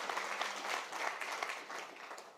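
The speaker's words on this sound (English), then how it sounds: "I wonder if we could give them all a quick round of applause for their generous" Audience applause for program donors at a design talk, a steady, dense round of clapping from a sizable crowd lasting throughout, fairly even in level.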